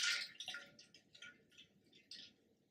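Hair ends dipped into a bowl of ice water, with soft close splashing and dripping that fades into faint trickles, heard without talk.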